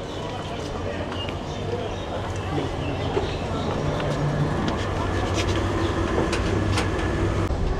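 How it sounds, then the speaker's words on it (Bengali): Saikat Express train pulling out of Satkania railway station, a steady loud rolling rumble with clattering wheel and wagon noise and occasional sharp metallic clicks, heard from on board. "এই যে আমাদের ট্রেন সৈকত এক্সপ্রেস এখন সাতকানিয়া রেলওয়ে স্টেশন ছেড়ে চলে যাচ্ছে।"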